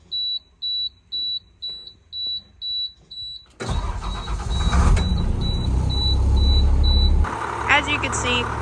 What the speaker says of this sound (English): You want to make sure to run your bus regularly.